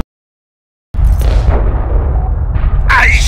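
An ion cannon fires in the Ratchet & Clank 3 video game: silence, then a loud booming blast with a deep rumbling tail and a sharp whooshing burst near the end.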